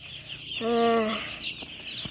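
Small chickens cluck close by, with one clear drawn-out call in the middle and lighter clucks around it, while a person speaks softly nearby.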